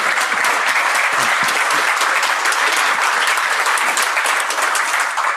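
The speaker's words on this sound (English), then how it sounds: "Can we give this man a round of applause?" A conference audience at a security talk on HL7 hospital messaging gives a round of applause, loud, dense and continuous for over five seconds, with no voices breaking through.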